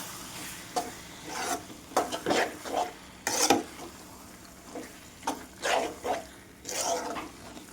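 A spoon scrapes and stirs a brinjal and tomato curry with coriander powder in a pan, making repeated gritty strokes over a low background hiss, with no talk.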